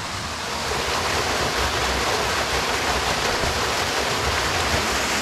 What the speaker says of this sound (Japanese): イエーイ、宿屋の滝だ。